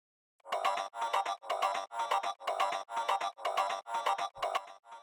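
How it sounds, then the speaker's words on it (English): A chopped talk box vocal sample from Loopcloud, cut into a steady run of about nine short, evenly spaced bursts with a vowel-like, buzzy tone and brief gaps between them, loud and alone. "I also added a sample of a talk box that I got from Loopcloud"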